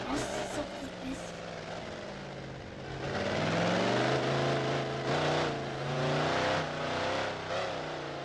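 Racing car sliding off a track in a skid, engine revving loudly with tonal whine rising and falling, accompanied by excited speech throughout.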